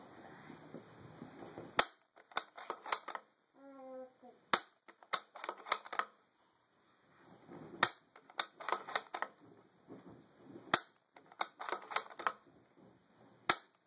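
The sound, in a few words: bolt-action .308 rifle cycling a magazine of five rounds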